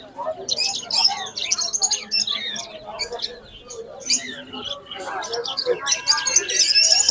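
Pigeons at the Khalishpur pigeon market chirp and call near and far, mixed with busy background chatter from people around the stalls.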